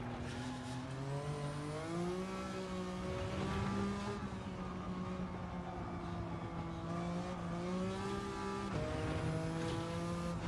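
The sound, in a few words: tuned BMW Z4 engine with racing exhaust, Gran Turismo 7 video game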